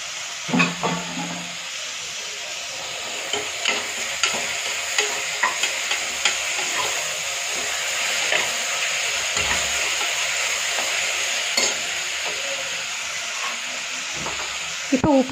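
Tomatoes and brinjal fry and sizzle in a pan while being stirred for brinjal kosamalli, a steady close hiss broken by light scraping clicks of the spoon throughout.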